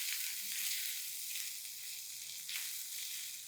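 Cumin, asafoetida and finely chopped ginger sautéing in hot oil, giving a steady bright sizzle close up with brief surges as the spices are stirred, and no talking.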